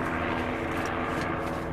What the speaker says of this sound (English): Your helicopter going overhead just taunting me.